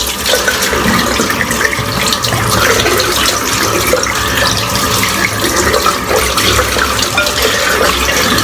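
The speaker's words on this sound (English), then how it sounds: "I'm going to wash the brush out" A tap runs steadily and loudly for several seconds, water splashing continuously as a shaving brush is rinsed under the stream, with no voices.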